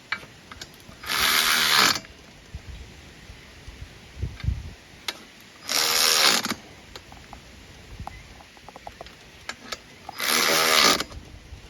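Bolts being tightened on a Harbor Freight winch hitch mount plate, heard as three bursts of rapid ratcheting at steady intervals, each about a second long, with faint clicks and handling noise between them.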